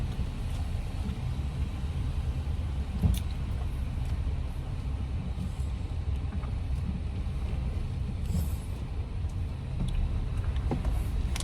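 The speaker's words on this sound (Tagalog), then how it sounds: "May sasakyan." A car goes by on a road, a steady low rumble that stays close and fairly even throughout, with faint background clatter and no clear talk.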